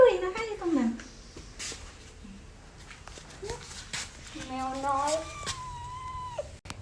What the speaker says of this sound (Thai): โอ้มีแมว